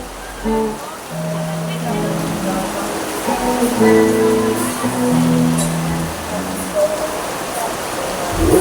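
Dense, steady heavy rain hisses loudly throughout at a barangay fiesta beer plaza in Ogbong, while someone speaks over it and faint tonal sounds drift underneath.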